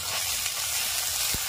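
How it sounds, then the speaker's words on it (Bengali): Green pea paste with ginger paste, green chilli paste and salt sizzles steadily while being sautéed in hot oil in a wok, a continuous dense frying hiss with no talk. "কড়াইশুঁটি বাটাটা ভালো করে কষিয়ে নেবে।"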